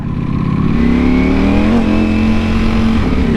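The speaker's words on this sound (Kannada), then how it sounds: "ಲೈಟ್ ತ್ರಾಡಲ್ಲಿ ಕೊಟ್ಟರೆ ನಮ್ಮ ಮಗನ ವೀಲ್ ಸ್ಪಿನ್ ಹೊಡಿಯುತ್ತೆ ನೋಡಿ" A car revving under light throttle with wheel spin on cement, a loud close engine drone rising in pitch and holding steady, with no one talking.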